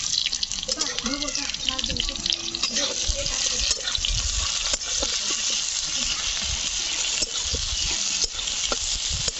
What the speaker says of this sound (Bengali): পেঁয়াজটাকে কড়া করে ভেজে নেব।